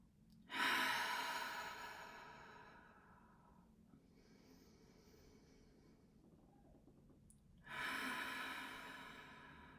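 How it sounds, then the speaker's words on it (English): Slow, steady breathing: a long, airy exhale through the mouth, a quieter inhale through the nose, then another strong exhale. Close and intimate, with no talking. "I'm going to begin by breathing in through the nose and exhaling through the mouth"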